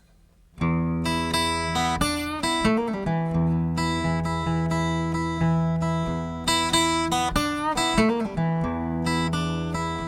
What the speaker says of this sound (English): I'm going to play one lick and I'm going to change the chords underneath the lick